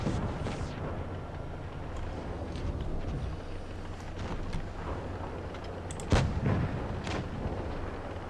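Tank cannon fire in the WoT Blitz game, a dense rumbling roar of continuous battle noise with a sharper heavy blast standing out near the end, loud and close.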